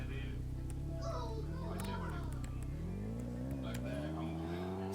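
A Nissan GT-R drives off in the Roblox game Brookhaven, its steady engine drone rising and falling in pitch across the clip under a busy backdrop of children's chatter and game sounds.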